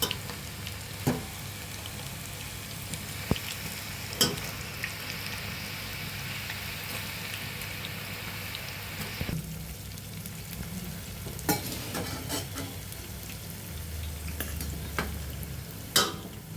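Onion pakoda fries in groundnut oil with a steady, close sizzle and bubbling crackle, broken by a few sharp clinks and stirring scrapes as the fritters are turned.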